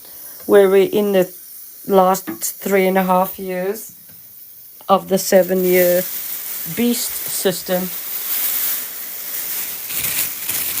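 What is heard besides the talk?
crackling of radiation shielding paper being put up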